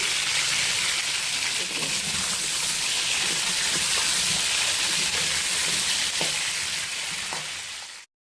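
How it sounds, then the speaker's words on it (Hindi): Potatoes fry on high heat in a kadai, giving a loud, steady, unbroken sizzle that runs evenly throughout with no voices. "इसको अब मैं 6 से 7 मिनट तक तेज़ आंच पे फ्राई करूंगी।"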